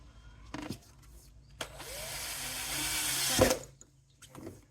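A power drill pre-drills screw holes for mounting a roller skate plate, a short whirring run that builds to a peak and then stops, with clunks of handling before and after.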